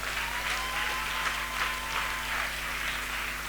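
A church congregation applauding the Lord during a French-language sermon, sustained dense clapping from a crowd filling the whole stretch at moderate level, with no talk over it.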